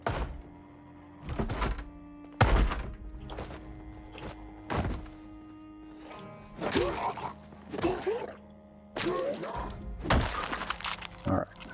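In Project Zomboid, a zombie inside a fire station bangs on something while trying to break out, giving repeated heavy thuds and crashing blows in irregular bursts, with someone talking between them.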